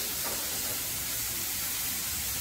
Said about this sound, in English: In that we need to put bacon. You can hear that sizzling sound.